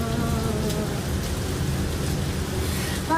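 Heavy rain pours steadily outdoors near a roadside bus stop, a dense, constant hiss of drops hitting surfaces throughout, loud and close with no pauses.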